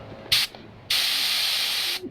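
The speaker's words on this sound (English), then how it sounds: "So we're going to start with the R, Finer Force R." Meiji Finer Force R mini spray gun spraying at 2 bar with full fluid and full fan, heard as a short loud hiss burst followed by a longer steady hiss lasting about a second, with no talk.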